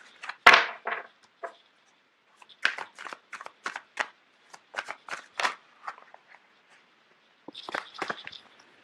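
Tarot cards being handled and shuffled, sharp papery riffles and taps in short irregular bursts separated by pauses, close and clear with no talking.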